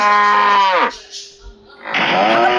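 A cow in a deer video game lets out a loud, close, drawn-out moo that falls away. After a short quiet gap, a second moo begins.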